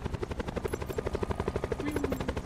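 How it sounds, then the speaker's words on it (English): A helicopter in the video game Call of Duty: Black Ops 4 Blackout thuds with a steady, rapid rotor chop, fairly loud and continuous, with a brief whine partway through and no talking. "I'm assuming that was my chopper."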